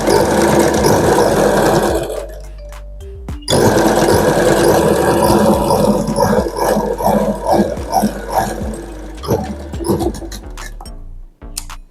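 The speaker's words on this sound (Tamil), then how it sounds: "நான் அப்படியே தைக்கிறேன்." A sewing machine stitches an Aari blouse with a loud, steady mechanical whir. It halts briefly near the start, then runs continuously and stops just before the end.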